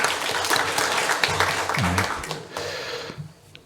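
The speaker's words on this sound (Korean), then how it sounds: "하나님께 영광의 박수를 올려드리겠습니다" Congregation applause at a Sunday church service, a dense spread of clapping across the room that holds steady and then thins out toward the end, with voices mixed in.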